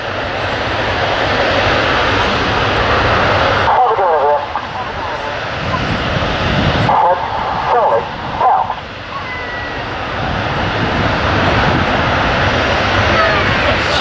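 Red Arrows jets rolling down the runway for a formation takeoff at RAF Waddington, a loud steady engine roar that stays heavy throughout with brief dips, a commentator talking over it.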